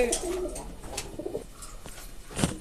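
Frill and capuchin pigeons coo softly in a loft, giving a few low murmuring calls at close range against faint background noise.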